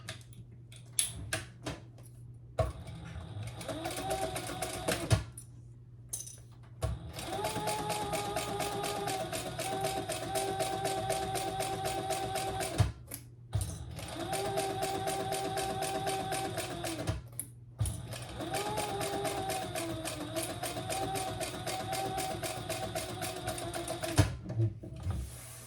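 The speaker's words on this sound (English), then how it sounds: "So let's sew this together across the top" A sewing machine stitches fabric across the top of a Federica garment in several steady runs with an audible motor whine, separated by brief stops and a few clicks from repositioning.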